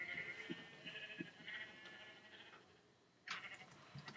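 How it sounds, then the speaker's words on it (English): Sheep bleating in a farming video game, several short nasal bleats spaced a second or so apart over a faint background, with one louder call near the end. "every now and then I'll just come and shear the sheepy"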